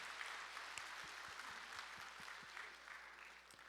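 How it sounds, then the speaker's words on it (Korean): A congregation at the Sunday morning service of Ansan Dongsan Church applauds, a soft, fairly distant and continuous patter of many hands clapping together. "하나님께 영광의 박수 올려드리겠습니다"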